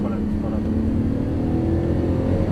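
A Porsche GT3 Turbo engine pulling hard on a race track, a loud steady low drone heard from inside the car, constant throughout with a voice talking over it.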